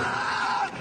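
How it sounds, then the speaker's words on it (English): A loud, guttural comedic scream bursts out in a single sustained, strained cry, near and harsh, then cuts off abruptly with no talk around it. "I like the scream."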